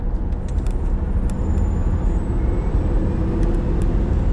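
A Tesla Model S Plaid accelerates hard on a straight road, producing a loud, steady wash of road and wind noise with a deep low rumble and a faint electric whine, with no talking.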